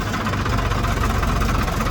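Tractor engine working a field while ploughing for potatoes, a steady low diesel rumble with continuous vibration, close and loud throughout with no talk.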